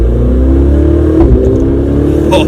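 A Ferrari 488 Spider's engine hums close and loud at light throttle, a smooth mid-pitched drone with a slight rise in revs partway through and a brief whir near the end.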